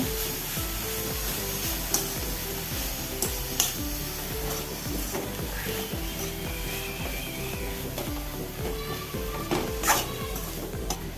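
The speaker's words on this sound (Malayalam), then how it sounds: "ഉപ്പും ചേർത്ത് നല്ലപോലെ ഇളക്കുക" Mixed leafy green thoran being stirred with salt in a pan, a steady scraping and rustling with light sizzle and occasional clinks of the utensil against the pan, close and continuous throughout.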